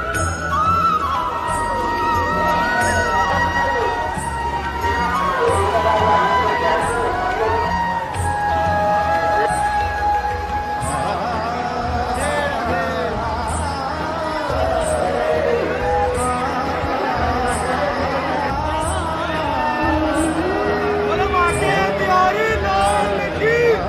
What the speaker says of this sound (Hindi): आज एकादशी इसलिए आज बहुत ज्यादा भीड़ है